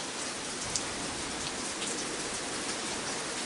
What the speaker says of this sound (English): And you do hear the rain on the steel roof.